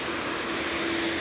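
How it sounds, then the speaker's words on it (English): A Lufthansa airliner from Frankfurt touches down at Manchester Airport, heard as a brief, steady engine roar with a faint sustained tone. "Lufty from Frankfurt just touching down with flight 940."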